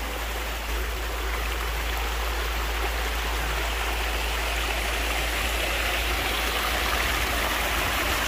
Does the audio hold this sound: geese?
no